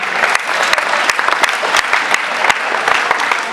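An audience at a student climbing-wall competition claps steadily, dense and loud, with no let-up across the whole stretch.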